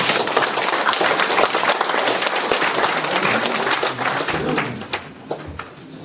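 An audience at a Korean humanities lecture forum claps steadily to welcome a professor, dense sustained applause that tapers off near the end.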